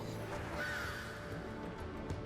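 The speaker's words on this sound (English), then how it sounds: "Bird." A bird call from the video game Final Fantasy XIV, a short cawing, crow-like cry heard over steady in-game ambience and background music, with no one talking.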